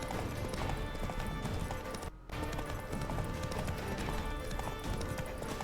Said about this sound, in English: Caballo haciendo un caballito.